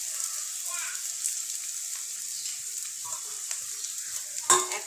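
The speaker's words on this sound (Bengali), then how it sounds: "এখন নিব একটু পেঁয়াজটা একটু ভাজা করে নিব, ভাজা ভাজা হবে।" Onions fry in a pan with green chillies for a sarpunti fish curry, a soft steady sizzle with occasional stirring scrapes and one sharper clink near the end.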